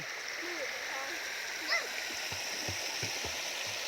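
Steady broadband rush of flowing stream water throughout, with a few small splashes and faint voices in the background.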